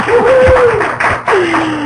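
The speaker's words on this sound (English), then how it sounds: "So please give Lauralee a big round of applause" Audience applause at a live entrepreneurial education event, a steady, fairly loud wash of clapping with a sustained voice rising over it.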